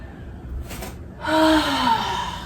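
Deep breath during a pranayama yoga class: a soft airy intake, then a louder, fuller breath with a faint voiced tone that carries for about a second, close and alone with no talk.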